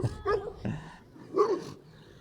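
A big shaggy farm dog gives a few close, short barks and yips in quick succession, fairly quiet, with brief gaps between them.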